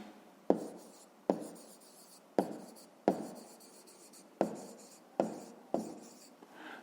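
A pen writes down a math answer on paper with a series of quiet, sharp taps and short strokes, about eight of them in a steady rhythm, close by.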